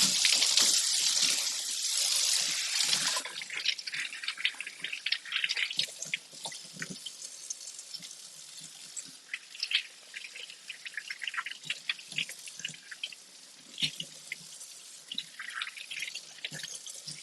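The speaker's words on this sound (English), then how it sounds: "I'm going to take these over and rinse out these seeds before they get everywhere." A kitchen sink tap runs in a steady, bright stream for a few seconds while pepper seeds are rinsed. Scattered drips and splashes follow as the flow stops and seeds are cleared away.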